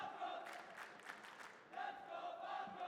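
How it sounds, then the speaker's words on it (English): Crowd at a Call of Duty Warzone esports event, a steady roar of cheering and shouting from a large audience in two swelling waves, heard fairly faintly in the background. "And you can hear the crowd."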